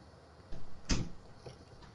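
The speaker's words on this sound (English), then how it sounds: "as you heard his door close" A door shutting in the background of an F1 2018 racing stream: a single soft thud, fairly faint and close, with a couple of quieter knocks around it.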